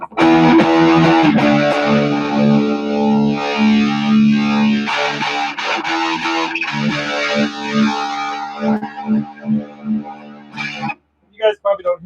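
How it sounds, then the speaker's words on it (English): A guitar runs through a Vermin effects pedal, giving a loud, thick, distorted tone with sustained chords that break into choppy, stuttering stabs and then a brief silence near the end, heard alone. "The Vermin is a way cool pedal."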